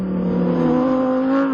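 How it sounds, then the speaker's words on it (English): A Lamborghini Sterrato slides sideways in a loud, close engine drone whose pitch climbs steadily over a second and a half, with no voices. "I feel like a child driving and drifting the Sterrato"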